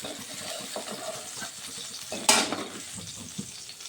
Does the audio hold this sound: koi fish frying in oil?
yes